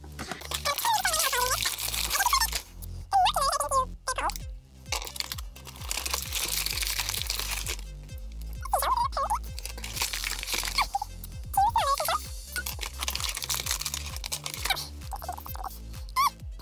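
Repeated rubbery squeaks from a squeezed rubber toy duck, coming in short bursts with pauses between, loud and close, with crinkly handling noise throughout.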